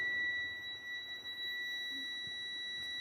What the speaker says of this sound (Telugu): అలా చేయగానే మీకు బజర్ సౌండ్ వస్తుంది